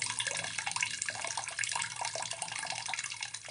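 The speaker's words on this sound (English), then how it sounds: "I'd say you need to run it for 20 to 30 seconds. The water should run clear" Water running steadily from the dispenser of a Samsung RF263 refrigerator just after a filter change, a continuous close hiss and splash with no pauses and no talking.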